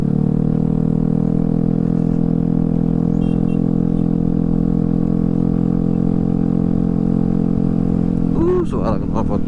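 Yamaha Fazzio scooter fitted with RCB parts, its exhaust giving a steady, close idling rumble with a smooth even tone, and a brief voice near the end.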